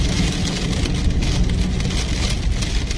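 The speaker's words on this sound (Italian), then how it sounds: "Piove." Rain falls steadily on a wet asphalt street, a dense even hiss of drops with faint traffic rumble underneath, no voices.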